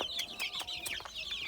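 Several Cochin chicks, Buff, Black and Blue, peep and cheep continuously in a brooder, a close, busy chorus of high chirps with no talking.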